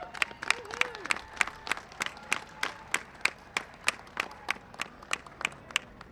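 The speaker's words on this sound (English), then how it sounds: "How about an applause for all these participants?" A small outdoor crowd claps for Police Unity Tour participants, the sharp claps sparse and fairly evenly spaced, with a brief voice at the start.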